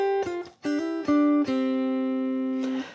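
A ukulele plays a short rock-blues phrase of plucked notes, a few quick picked notes leading into a held ringing note and a final strum, close and clear.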